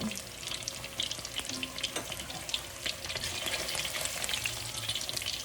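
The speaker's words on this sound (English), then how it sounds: "Please be very careful when you're frying anything." Tofu fries in oil that sizzles and crackles steadily in a pan, a busy frying hiss with occasional soft clinks, close by and without talking.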